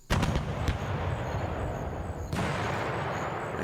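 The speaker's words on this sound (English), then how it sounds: "the 74th Field Regiment will fire all guns blazing at this objective" Video-game artillery from the 74th Field Regiment in John Tiller's Panzer Campaigns France '40 at Arras: loud, dense booming volleys that roll on continuously, with a fresh heavy blast near the end.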